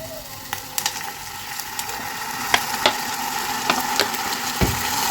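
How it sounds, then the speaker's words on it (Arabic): Fried garlic sizzles in a pan while being prepared as a topping for Egyptian fatta, a steady crackling fry with scattered sharp pops and clicks, moderately quiet and without talk. "سامعين الطشاشه؟"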